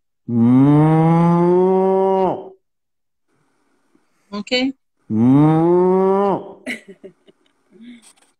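A man imitates a cow with his voice, giving two long, loud drawn-out moos separated by a pause, with brief laughter and short spoken remarks after each.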